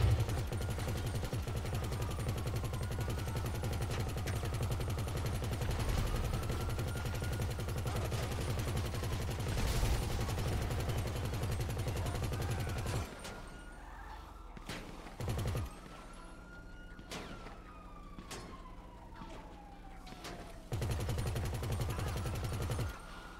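Sustained rapid chain gun fire in GTA Online, a loud continuous fusillade with brief pauses and bursts resuming, alongside engine noise from a tank.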